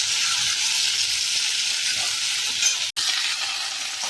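Mixed vegetables and crushed garlic frying in hot oil in a pan, a steady, loud hiss and sizzle broken by one brief cutoff near the three-second mark.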